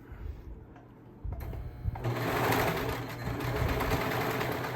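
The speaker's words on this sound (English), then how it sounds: "And here comes the serger" A serger overlock sewing machine starts up partway through and then runs steadily, a close, fairly loud mechanical whir that builds and holds without pause, with no speech over it.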